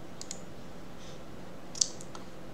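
A few faint, scattered clicks from a computer mouse against a quiet room background, with one sharper click standing out near the middle.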